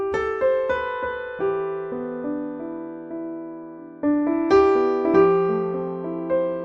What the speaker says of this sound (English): also listen to the piano.